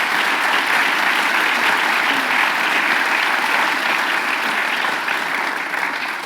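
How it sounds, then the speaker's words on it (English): Strong, steady applause from an audience for panelists at an event, a dense, even roar of clapping that holds at a high level before easing slightly near the end. "Please give a round of applause to our panelists."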